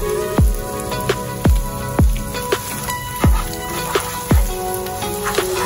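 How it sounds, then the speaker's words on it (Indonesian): Macaroni sautéing with garlic and margarine in a hot pan gives a continuous, close sizzle, broken by about six sharp knocks at roughly even intervals. "Kita tumis juga bersama dengan bawang putihnya dan margarin"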